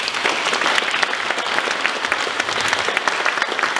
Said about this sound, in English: So can we get a big round of applause for Mark?